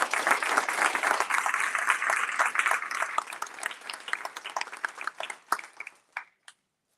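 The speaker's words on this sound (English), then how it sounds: "Give yourselves a big round of applause" Audience applause at the Midwest Democracy & Power Summit, a dense burst of many hands clapping that thins into scattered claps and fades out near the end.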